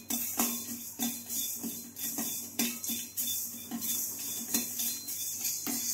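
Fenugreek and asafoetida dry-roast in a pan as a spoon scrapes and clinks against the metal in a steady, regular rhythm of close taps, quiet and without talk.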